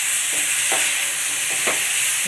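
Cluster beans frying with tomato in hot oil, a steady broadband sizzle running throughout with a few soft scraping stirs of a spoon in the pan, close and fairly loud, no voices.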